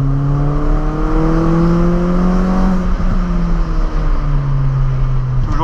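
A 2003 Peugeot's engine accelerates while driving, a loud continuous hum with rising harmonic pitch sweeps as revs climb, dipping after a shift and climbing again, steady and close from inside the car.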